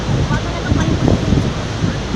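Roaring Niagara Falls seen from a tour boat: a steady, loud broadband rush of falling water that stays even and continuous throughout, with no talk over it.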